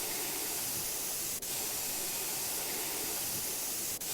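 A continuous hissing spray from a paint pistol in the video game Junkyard Builder runs steadily throughout, broken by two brief clicks.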